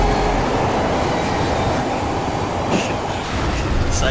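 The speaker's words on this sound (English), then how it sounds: "Sideswipes a train." A train being sideswiped in the game Resident Evil 6: a loud, continuous rushing rumble of rail cars with rattling and faint squeals throughout.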